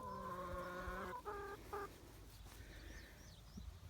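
Several chickens cluck up close in a backyard overgrown with clover, giving a run of short, stacked clucks and then softer scattered calls against quiet outdoor background, with no talking.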